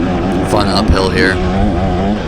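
A 2024 KTM XC-W dirt bike accelerating uphill out of a turn during a harescramble race, the engine loud and close, revving up with rising and falling pitch while a voice talks over it.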